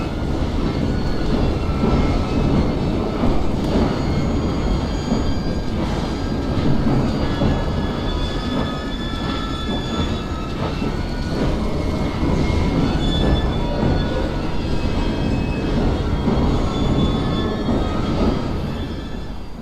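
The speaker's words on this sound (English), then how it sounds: "We fixed up the train for you." Steam-era train running in Assassin's Creed Syndicate, set in Victorian London, with continuous rumbling wheels, rail clatter and high squealing steel, loud and steady throughout with no voices.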